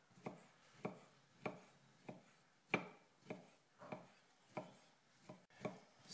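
A knife slices Chinese sausages thinly on a board, about a dozen crisp, evenly spaced chops in a steady rhythm, close and clear with no talk.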